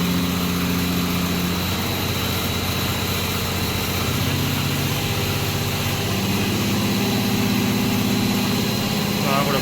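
A truck's diesel engine runs hard near full RPM, a steady loud drone with sustained low harmonics and shifting pitch, continuous throughout.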